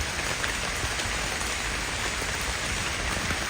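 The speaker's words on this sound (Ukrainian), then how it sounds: "дощ іде" Steady rain falling outdoors among plane tree saplings in a nursery, an even, constant hiss of drops with no voices.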